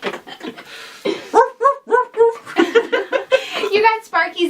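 Sparky the dog barks in a quick, loud series of close yaps and woofs, with a few softer whimpering sounds before the run of barks.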